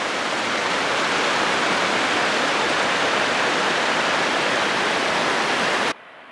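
Ribbon Falls, a waterfall near Black Lake in Rocky Mountain National Park, as a steady, loud, close broadband roar of rushing water that runs unbroken and then cuts off abruptly near the end.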